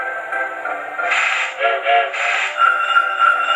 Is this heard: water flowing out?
no